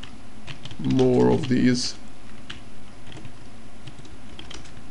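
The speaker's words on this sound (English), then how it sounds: "I'm just trying to type in some garbage" Rapid clicking keystrokes on a computer keyboard, close and steady, with someone speaking over the typing in the first part.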